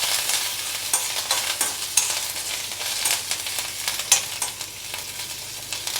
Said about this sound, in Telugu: దీన్ని ఏం చేయాలి, సన్నగా వేయించుకోవాలి మంచి రంగు వచ్చే వరకు.